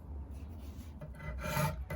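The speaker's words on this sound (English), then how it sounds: "going in with a Shinto rasp to get everything started" Close up, a Shinto rasp carves a wooden electric guitar body with a few short, coarse scraping strokes that grow louder toward the end.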